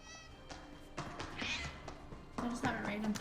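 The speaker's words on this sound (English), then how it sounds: "I just have a random cat in the ship" A cat meows during a fantasy drama episode set aboard a ship, a couple of short mews heard under dialogue and background score.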